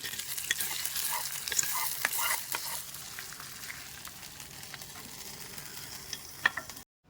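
Hot oil tempering of mustard seeds, dried red chillies and curry leaves is poured into beetroot pachadi, giving a steady loud sizzling hiss with scattered crackles that stops abruptly near the end.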